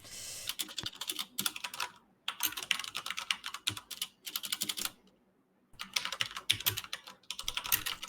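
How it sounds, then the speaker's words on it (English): Typing on a computer keyboard during a game development live stream: close, rapid clusters of key clicks in bursts separated by short pauses, with no talk. "There's a lot of typing"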